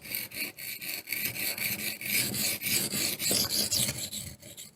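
Knife steel being reprofiled on a HoneyBadger sharpener, a steady run of raspy grinding strokes in close succession, loud and up close with no talking.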